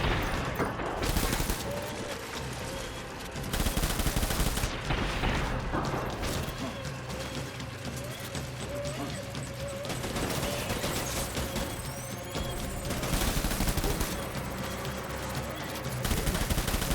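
Gunfire in Death Stranding, dense bursts of rapid shots that start and stop irregularly, loud and close, mixed with clanking mechanical sounds throughout.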